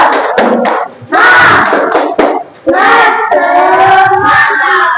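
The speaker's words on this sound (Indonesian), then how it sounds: "Tepuk semangat." A classroom group performs a spirited clap chant, voices shouting in unison with sharp hand claps marking the rhythm, broken by short pauses between bursts, loud and close.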